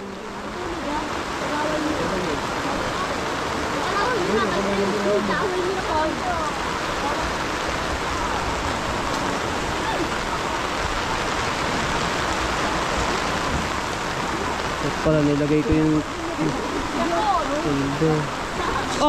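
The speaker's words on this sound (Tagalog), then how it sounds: "Lakas ng ulan." Heavy rain pours steadily onto a waterproof tent at a campsite, a dense unbroken hiss with water bouncing off the fabric, while people talk close by throughout.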